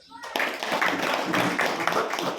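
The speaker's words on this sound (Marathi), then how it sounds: "यासाठी देवस्थानसाठी एक वेळ टाळ्या वाजवा." Audience at a Hanuman temple gathering clapping together, a sustained burst of many hands after a brief quiet start, with a voice heard alongside.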